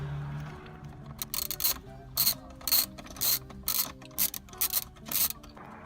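Up close, a ratchet clicks through a rapid run of short, evenly spaced bursts while backing out 7 millimeter bolts beneath the stereo of a Lincoln Navigator, crisp and fairly quiet, with nothing else heard.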